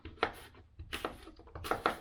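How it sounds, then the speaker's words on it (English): Rough chopping of apples on a kitchen board, a few brief knife strikes in loose clusters with short pauses between them, close and moderately loud. "Let's keep chopping these apples roughly."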